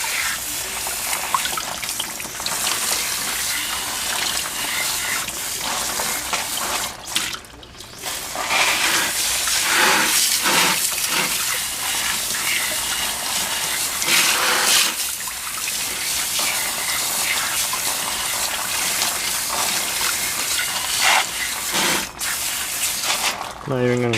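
Water sprays steadily over worn drum brakes and brake shoes during a quick wash-down, a continuous near hiss with gushing surges throughout, and a voice speaks over it at times.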